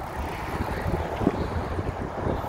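Gusty wind buffets the microphone at Oak Street Beach in downtown Chicago on the lakefront, a steady low rumble that swells and dips without pause, with no voices over it.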